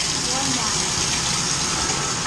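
Tap water gushes steadily into a bathtub as it fills, a loud, continuous broadband rush that holds unbroken for the whole stretch, with no voices over it.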